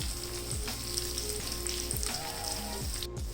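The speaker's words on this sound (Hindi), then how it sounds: "तवा गरम है, तो इसलिए इसमें से बबल्स उठ रहे हैं।" Raw mutton keema kabab patties sizzle and fry on a hot tawa, a steady close crackling hiss with bubbling spits throughout and no talking.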